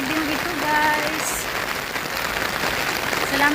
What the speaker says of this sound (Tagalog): Hindi nyo marinig ang boses ko kasi sobrang lakas ng ulan.